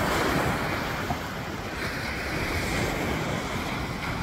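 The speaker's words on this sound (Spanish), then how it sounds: "En esta playa yo no me meto porque hay muchas olas" Ocean surf rolls onto a beach where surfers wait, as a continuous loud wash of breaking waves mixes with wind buffeting the microphone, with no one speaking.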